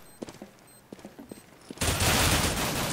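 Gunfire in Counter-Strike on the de_cache map: a few sharp, separate shots early on, then a sudden loud, dense burst of continuous firing that fills the rest of the clip.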